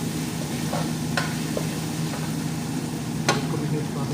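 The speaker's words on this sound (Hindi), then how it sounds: "अभी ये धीरे धीरे इसको फ्राई करते हैं, अदरक को साथ में भूनते हैं" Ginger frying in a pan gives a steady low sizzle with a few faint stirring scrapes, quiet and continuous throughout.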